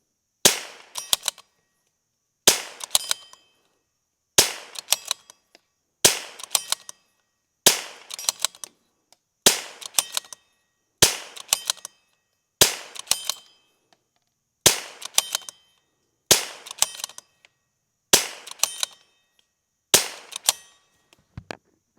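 A Rim-X rifle fires round after round downrange during a reliability test, sharp single reports spaced about every two seconds with short echoing tails, loud and outdoors, no voices.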